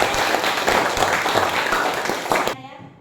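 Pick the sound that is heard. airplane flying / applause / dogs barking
applause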